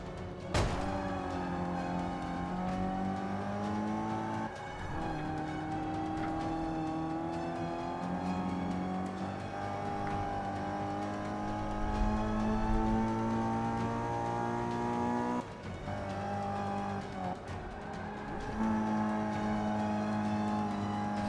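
A Mazda engine in the racing video game Forza 5 revs hard through a lap, with rising and falling gear-change pitch sweeps, steady and close, sharp shifts breaking the drone at intervals.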